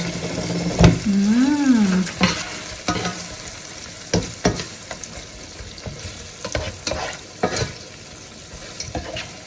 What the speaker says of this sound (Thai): เอาน้ำซอส ลาดบนสเต็กค่ะ